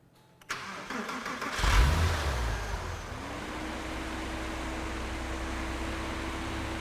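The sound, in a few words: Porsche car engine starting up and idling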